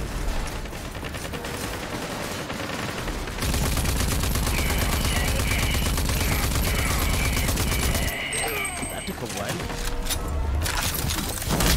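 Cannons and heavy guns fire in the video game Rage 2, a continuous dense barrage of booming shots and rattling fire, loud throughout with mechanical clatter.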